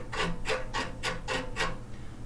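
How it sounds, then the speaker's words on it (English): Gritty grinding rasp from the tuning knob of a Dialtune snare drum as it is turned, six short scraping strokes in a steady rhythm, close and fairly clear with no talking. "The left knob has developed some kind of grittiness."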